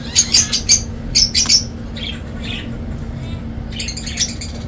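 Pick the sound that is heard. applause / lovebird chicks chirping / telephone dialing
lovebird chicks chirping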